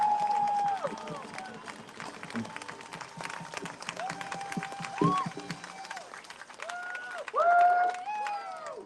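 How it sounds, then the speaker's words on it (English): Clapping and cheering from a crowd at a lively rally-style event, a steady wash of applause lasting several seconds with voices and tonal sounds rising over it. "Please, another round of applause"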